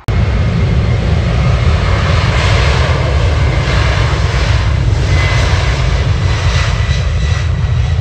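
At Manchester Airport an aircraft engine roars loud and constant, a dense, unbroken rumble with no pauses or talk over it.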